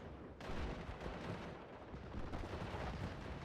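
Hurricane aircraft strafing a ground target in the Steel Division war game, a rapid, dense run of gunfire and impacts starting abruptly and continuing as a rough, rumbling barrage at moderate distance.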